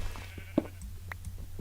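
A single short sheep bleat from the Minecraft video game, sounding brief and moderately close over a low steady background hum, with a few faint game blips around it.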